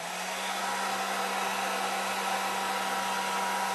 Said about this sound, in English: Grab our trusty old cheapo heat gun.